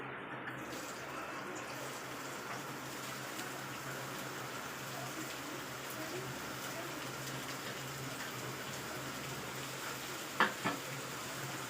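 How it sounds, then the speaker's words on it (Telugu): Onions and green chillies frying in hot oil for a drumstick tomato curry, a faint, steady, quiet sizzle heard from a little distance, with a couple of soft knocks near the end. "ఆయిల్ కాగిన తర్వాత ఆనియన్స్ అలాగే మిర్చి అనేది యాడ్ చేద్దాము"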